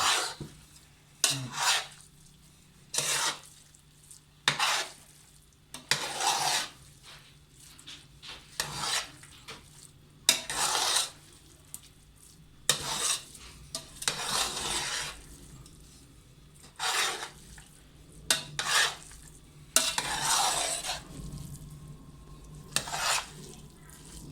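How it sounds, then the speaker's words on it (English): A spoon scrapes and stirs through chicken curry and rice for biryani in a pot, in a steady series of rough, rhythmic scraping strokes close by, with no talking. "what you want to do is mix it until the rice and all the curry is mixed and you got an even color"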